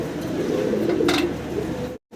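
Healthy domestic pigeons in a loft make soft, low, throaty cooing at close range, continuous for about two seconds before a sudden cutoff.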